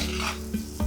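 A brief, close scrape of a spoon stirring seasoned fish into a Sri Lankan fish curry in a pot, with a faint sizzle under it.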